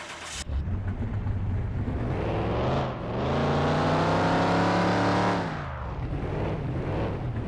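A 1979 Pontiac Chieftain Bandit muscle car in a car mechanic game cranks and starts, then its V8 engine revs up hard to a loud sustained roar. The revs fall back to a rough idle.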